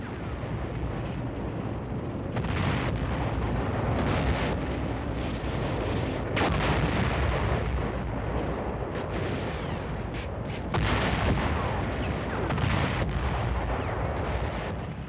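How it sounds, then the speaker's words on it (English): Live ammunition fires during military training, with troops crawling through mud as rounds pass overhead; a loud, continuous barrage of gunfire and booming artillery-like blasts rolls on with repeated sharp bursts and no voices. "learning to crawl through mud with live ammunition whizzing over your head was a new experience for most of us"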